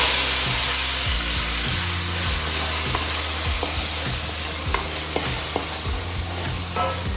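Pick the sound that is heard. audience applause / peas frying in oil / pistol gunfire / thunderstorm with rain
peas frying in oil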